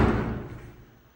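A door leading out to a pool closes with a single muffled thump that fades quickly, heard alone up close.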